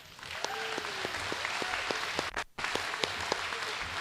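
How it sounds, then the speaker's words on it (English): Audience applause fills a high school all-sports banquet hall at Kellyville High School. The clapping is steady and close for about four seconds, with a brief dip midway and some voices calling out over it. "Let's give them all a round of applause."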